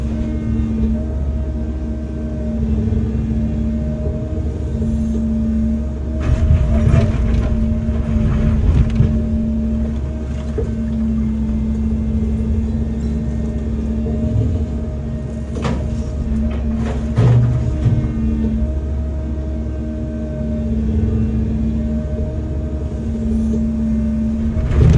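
A Caterpillar 309 excavator works close by, loading broken block wall rubble: a steady diesel drone with a sustained tone, broken by scraping and clattering bursts of masonry in the bucket.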